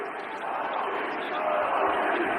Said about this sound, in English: Patrick Roy, his staff, acknowledging Ovi with a round of applause, and the crowd here all on their feet.